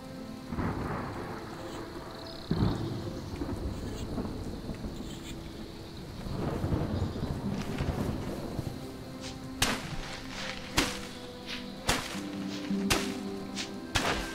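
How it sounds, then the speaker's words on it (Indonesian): Rain and a thunderstorm in the video game Smalland: Survive the Wilds: steady rainfall hisses throughout, broken by a rumble of thunder early and several sharp cracks near the end. "Mau hujan dong."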